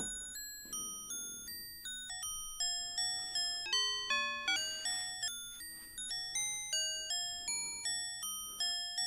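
Mutable Instruments Plaits Eurorack synth patch playing a sharp, xylophone-like tone: a steady run of bright, quickly decaying mallet notes, a few per second, stepping through a changing melodic sequence.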